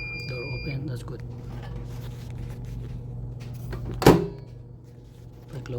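A microwave oven door swings shut during a repair check of its monitor switch, giving one sharp latch click that stands out briefly over a steady low hum and faint background noise.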